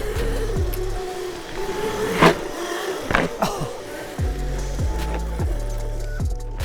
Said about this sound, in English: Fork is just like whunk, bottoming on that rock.